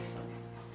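An excited dog whimpers at a reunion with its returning owner and family, a short, faint whine over a steady background hum, with no talking.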